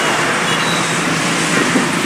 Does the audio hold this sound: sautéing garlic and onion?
no